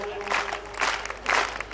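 Brief bursts of audience clapping at a Hindi kavi sammelan poetry recital in Seawoods, coming in three short, moderately loud waves separated by quieter pauses.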